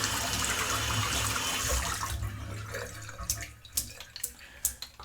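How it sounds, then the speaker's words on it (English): Badger shaving brush (Simpsons Chubby 2) rinsed under a running tap, a steady water rush for about three seconds that stops, followed by scattered drips and splashes. "So I'm just still rinsing the brush out."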